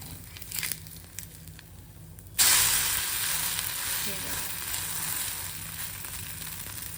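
Batter made from bhagar (barnyard millet) sizzles in oil on a pan for a fasting dosa, a steady frying hiss that jumps up loudly after a quieter start and then holds even with no talk.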